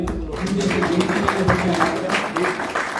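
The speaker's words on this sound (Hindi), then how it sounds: "मैं चाहता हूँ जोरदार तालियां" Applause from an audience at an International Yoga Day yoga and naturopathy health camp, a steady wash of clapping that lasts about three seconds, with voices talking over it.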